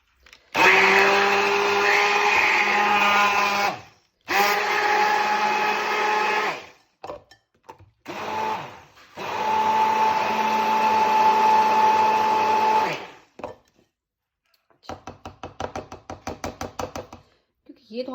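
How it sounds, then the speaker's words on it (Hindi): A hand blender whirs through green chutney of green chili, coriander, salt and garlic in loud bursts, with short gaps between them, followed by a few light knocks and clatters at the end. "उसको मैं ब्लेंड कर लेती हूँ हैंड ब्लेंडर से।"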